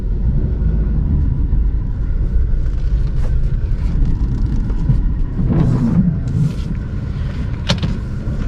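A 2003 Jeep Cherokee with a 3.7L V6 driving along, a steady loud low engine and road rumble heard from inside the cabin, with a few faint clicks and rattles and no talking.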